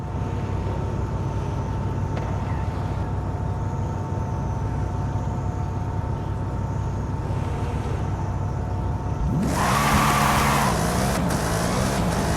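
Racing cars including a Hoonigan RS200 roar steadily in a video game, with a sharp, louder engine surge near the end.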